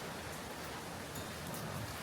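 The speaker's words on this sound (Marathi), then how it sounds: "तुम्ही बघू शकता इथे कसा भयंकर पाऊस चालू आहे" Dense, steady rain pours down in a continuous hiss, even and enveloping, with no other sounds standing out.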